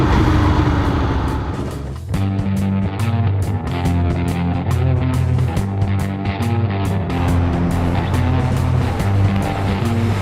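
A 2014 Aprilia Tuono V4R motorcycle on a morning freeway commute, engine droning steadily and close with a strong low rumble and a brief throttle change early on, wind noise constant.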